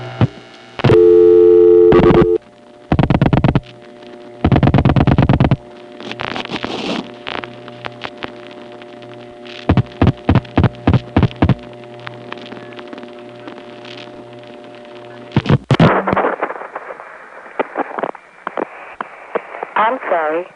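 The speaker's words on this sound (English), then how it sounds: "Let's just dial extra digits on a 360 call." Telephone call dialed with extra digits through a 1975 panel switching office, heard as bursts of steady tones, rapid clicking pulse trains and a harsh buzzing signal near the end, loud and close.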